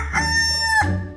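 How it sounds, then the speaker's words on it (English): A neighbour's rooster crows once, loud and close, a single drawn-out cock-a-doodle-doo that rises and then breaks off sharply, with nothing else around it. "it's not only chickens, it's roosters"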